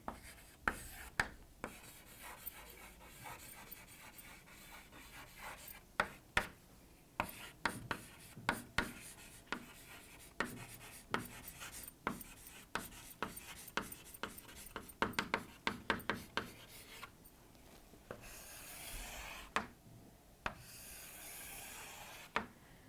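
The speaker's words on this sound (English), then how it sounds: "let me write down the second property" Marker or chalk writing on a board during a chemistry lecture: a long run of quick, scratchy strokes and taps in irregular bursts, close and fairly quiet, with no talking.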